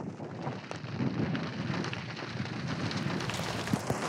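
Heavy rain pours down in a storm as weather balloons are launched, making a dense, continuous hiss with scattered close drops and a low rumble underneath.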